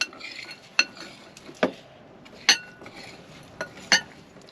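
A cook stirs a pot of spiced porridge with turmeric, cinnamon and nutmeg, a spoon clinking against the pot in a few separate knocks and scrapes, close and fairly quiet with no talk.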